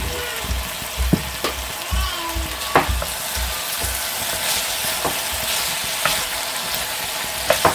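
Peppers and onions frying in hot oil for a mustard paupiette dish, a steady close sizzle with scattered stirring clicks and scrapes throughout.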